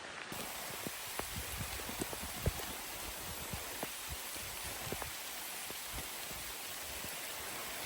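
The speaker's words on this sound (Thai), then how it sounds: "ตอนนี้รู้สึกว่าฝนเริ่มซา มันนิดหนึ่งนะ แต่ว่าก็ไม่ได้หยุดสนิท" Steady rain falls heavily in a forest, a dense hiss broken by scattered drops pattering close by, with no voices.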